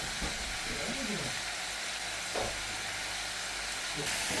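Pumpkin and ground meat sizzle steadily in a pan while being stirred, with a continuous frying hiss and a few scraping stirs.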